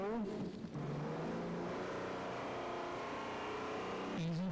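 Pulling tractor engine of a 4.4-ton European champion roars and revs at a 1997 tractor pulling event in Sottrum, Germany, with a loud sustained drone that rises at the start and again at the end.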